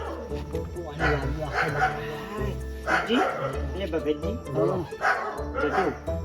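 Short yapping dog barks and whimpers break out repeatedly over a steady background of talking and voices, fairly close.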